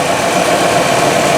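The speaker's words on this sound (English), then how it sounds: "that little old girl's just running, just idling and running like a champ" A 1962 Chevrolet engine, parked more than 35 years and now running on a new battery and a separate gas can, idles loudly and steadily up close, with a dense, even rumble and no voices.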